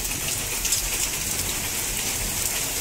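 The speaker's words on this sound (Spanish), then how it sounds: "Está cayendo granizo." During a storm on Mallorca, heavy hail hammers down in an even, loud, unbroken roar of impacts nearby, with no voices over it.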